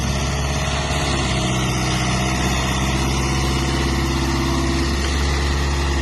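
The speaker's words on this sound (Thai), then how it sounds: "จะเป็นรถขุดขนาดพีซีสามสิบครับผม เครื่องยนต์ดีเซลสี่สูบครับ" A PC30 mini excavator's four-cylinder diesel engine idling steadily close by, a loud, even low rumble with a constant mechanical drone and no breaks.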